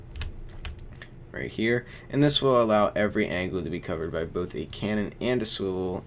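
Loud computer keyboard typing clicks away continuously beneath someone talking, the rapid key taps running under his speech throughout.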